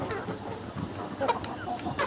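A one-legged chicken on a farm clucks in short, soft bursts close by, with a few sharper calls against a quiet background.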